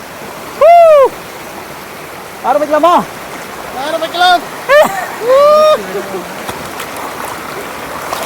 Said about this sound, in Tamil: அது வந்து அந்த அருவியோடைய அந்த சத்தம் கேட்டாலே இந்த கல்லில் கல்லோட பட்டு